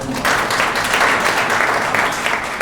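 A room full of people claps steadily for a speaker being introduced, a dense, even patter of applause holding at a close, loud level from start to finish.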